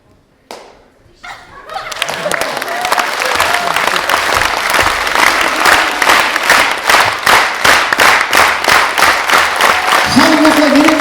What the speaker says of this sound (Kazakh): халық осылай менен бастайды, овация, шапалақ бастау деген осы міне